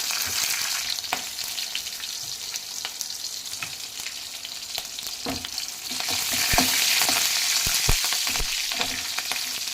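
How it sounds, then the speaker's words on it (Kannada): Mustard seeds, green chillies and curry leaves fry in hot oil for a raw banana palya, giving a steady close crackle and sizzle with sharp pops that grow louder in the second half, with no voices. "ಎಣ್ಣೆ ಕಾದೈತೆ ಈಗ ಸಾಸಿವೆ ಹಸಿಮೆಣಸಿನ್ಕಾಯಿ ಕರ್ಬೇವಿನ ಸೊಪ್ಪು ಹಾಕಿ ಫ್ರೈ ಮಾಡಿ"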